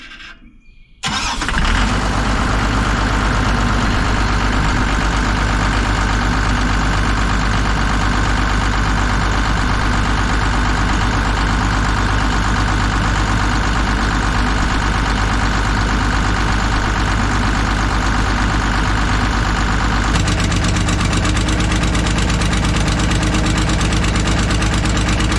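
A cheap excavator's diesel engine cranks and catches after a repair, then settles into a loud, steady idle with a rough rumble and turbo whistle, running continuously close by for over twenty seconds.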